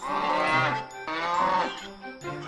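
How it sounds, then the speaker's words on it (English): A cow moos three times in a row, loud and close, each long tonal call breaking off before the next, with no other sound. "Cow mooed at the fox."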